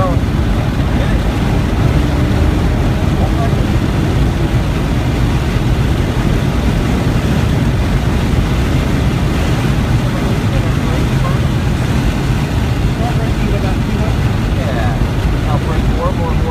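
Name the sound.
car engine accelerating down the straight on Circuit of the Americas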